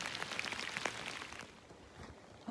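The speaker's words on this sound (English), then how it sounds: "Obviously it is pouring rain now" Heavy rain pouring in the wilderness during a solo kayak camping trip, a dense steady patter on surfaces, close and fairly soft, easing slightly toward the end with no talk.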